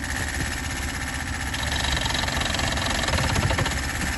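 A boat engine at a wharf runs in gear and is revved slightly, a steady loud droning rumble that swells a little in the second half.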